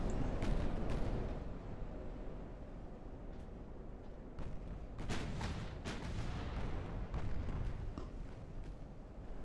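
Naval battle in the warship game Ultimate Admiral: Dreadnoughts, with dense rumbling gunfire, booming impacts and sharp cracking shots layered over a continuous low roar, loud and busy throughout.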